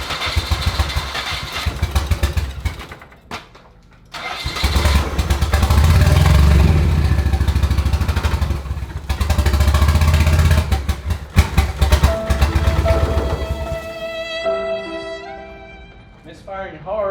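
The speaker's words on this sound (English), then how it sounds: "Misfiring hard. Sounds like it's not running on all cylinders." Nissan 240SX engine running rough and misfiring hard, as if not firing on all cylinders; loud, uneven close-up chugging with a brief drop near the start, then surging idle that cuts out late, with talk over it.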